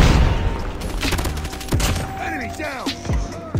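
Video game gunfire from Call of Duty, with dense overlapping rapid shots and sharp bursts, plus whooshing, descending effect sounds. It stays loud and close throughout, with no talk.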